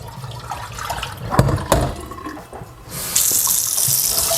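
Tap water pours into a kitchen sink while raw chicken feet are rinsed, a steady close hiss of running water that starts partway through after a few clatters.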